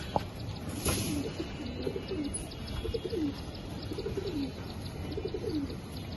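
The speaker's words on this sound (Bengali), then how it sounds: "একদম সুপার কোয়ালিটির একটা রেসার কবুতর।" Racer pigeons coo in a repeated low rolling pattern at close range, with soft chirps from other birds and a steady background hum.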